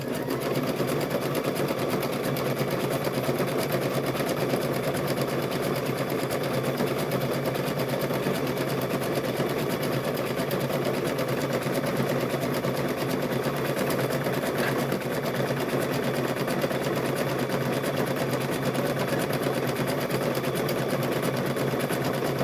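A sewing machine runs continuously while stitching an apron, giving a close, even whirring hum with no pauses.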